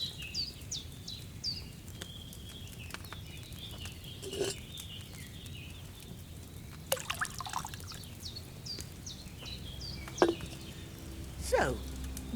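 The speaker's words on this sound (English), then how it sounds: "you have to pour the right base into the cauldron" Wine trickles and pours into a cauldron in Kingdom Come: Deliverance II, faint liquid dribbling with a few soft clinks and splashes against quiet ambient background and distant birdsong.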